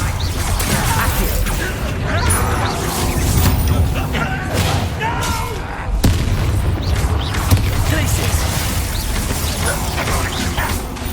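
A Bombarda blasting spell goes off in Hogwarts Legacy amid loud, dense booming and mechanical clattering, with sustained heavy rumble and scattered crunching impacts throughout.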